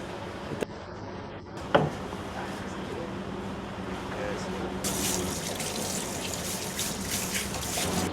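Running tap water streams steadily over female mud crabs being washed in a sink, with brief clatters and splashes, a heavier gush toward the end, and a voice speaking over it.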